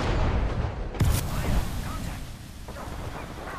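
A frag grenade goes off in the shooter game Apex Legends: a single sharp, loud blast with a low thump, followed by scattered debris and in-game activity, with voices present in the mix.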